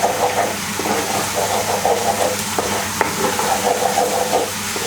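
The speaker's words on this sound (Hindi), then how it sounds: "लहसुन को बस हमने सौते करना है" Garlic sautéing in a clay cooking pot, a steady loud sizzle and crackle with faint stirring scrapes running throughout, close by and with no talking.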